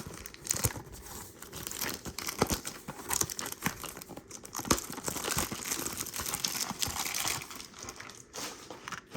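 Packs of 2024 Topps Heritage High Number baseball cards are torn open from blaster boxes, with close, continuous crinkling and crackling foil wrappers and sharp rips scattered throughout, alone with no talking.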